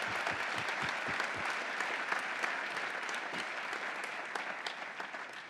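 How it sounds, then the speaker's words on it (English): A conference keynote crowd applauds continuously, dense clapping from many hands at a steady level throughout. "A round of applause, everyone."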